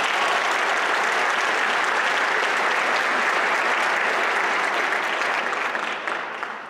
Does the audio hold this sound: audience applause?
yes